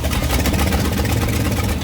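An old 1965 Ford Galaxie engine, which had water in it, runs loudly and steadily, a rough, rumbling drone with a slightly uneven chug close by.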